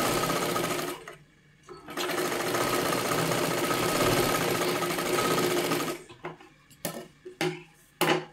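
A sewing machine stitches a katori blouse in a sustained loud run of about four seconds after a short opening burst, then a few shorter start-stop bursts and clicks up close.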